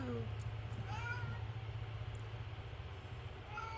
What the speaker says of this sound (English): You can hear my cat Gracie.